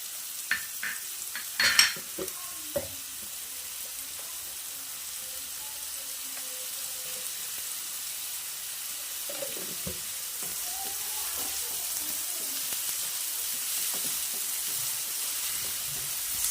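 Sliced onion with salt sautés in a pan, giving a faint, steady sizzle, with a few clinks of stirring utensils near the start and soft scraping later on.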